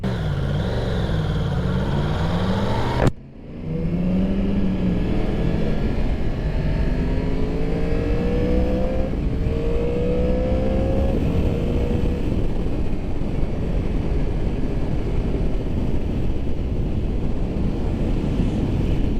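Steady rushing wind roar from riding a 2021 Yamaha R1 motorcycle, loud and continuous with a deep engine hum underneath and a brief dropout early on.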